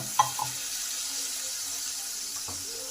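Water runs from a tap in a kitchen: a brief splash near the start, a steady faint trickle, then a second short pour near the end, the water going onto a frying spice paste for a potato and pointed gourd curry.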